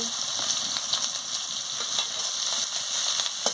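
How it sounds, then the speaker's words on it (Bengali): Chopped onion and green chillies sizzle in hot oil in a pan, giving a steady, bright hiss with small crackles that holds at an even level the whole time. "আমি এবারে পেঁয়াজ কুচিটা দিয়ে দিচ্ছি কাঁচা লঙ্কা দিয়ে দিচ্ছি"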